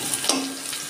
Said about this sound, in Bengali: একটু নুন হলুদ দিয়ে আমি আলুটাকে একটু লাল লাল করে ভেজে নেব।